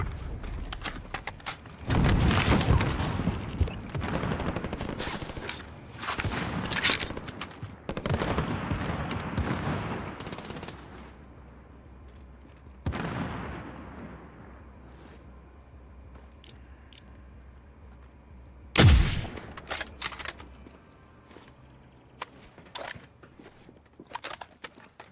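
Gunfire in a sniping video game, scattered sharp shots and bursts spread across the stretch, some loud and close, others fainter, with quieter gaps between them.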